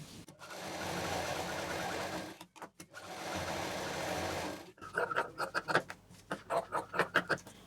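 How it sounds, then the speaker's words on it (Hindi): Sewing machine stitching a homemade cloth shopping bag, running in long continuous whirring bursts with brief pauses, then shorter rapid stop-start runs, close and clear. "यहाँ डबल मशीन चलाएंगे, यहाँ डबल मशीन चलाएंगे"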